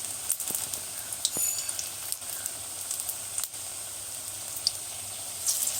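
Onion fritters made with roasted chickpea flour (chhatu) fry in oil over a low flame, giving a steady close sizzle with soft crackles and pops and no voices.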